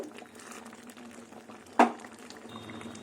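Mung and masoor lentil dal cooked with bottle gourd stems simmers in a pot, giving a steady low bubbling under a sharp single clack partway through, then a faint thin hiss near the end.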